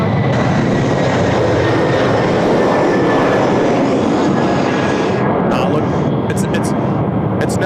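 A Qantas airliner taking off at Sydney Airport in wet weather, a loud continuous engine roar close by that fills the whole clip, with someone talking over it.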